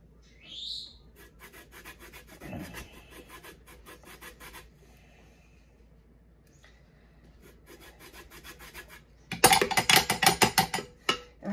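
Soft lemons being zested on a grater, with bursts of dry rasping strokes close by, a quieter stretch in the middle, then a louder, rapid run of scraping at the end.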